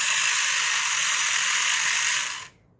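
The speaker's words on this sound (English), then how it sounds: "there's a little grinding sometimes with the legs" A Phoenix Armour robot's leg mechanism gives a steady, close, high-pitched grinding whir that runs for about two and a half seconds, then cuts off abruptly.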